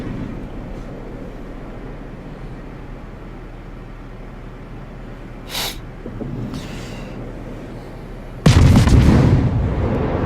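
Warship guns firing in World of Warships: a low naval rumble underneath, then a few sharp bursts, and near the end a loud heavy boom that holds as a roaring blast.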